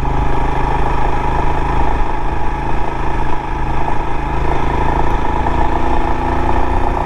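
Motorcycle engine labouring in heavy wind and rain on the Applecross Pass, NC500 in Scotland, a loud continuous rumbling drone with a brief dip midway, buffeted by roaring wind noise.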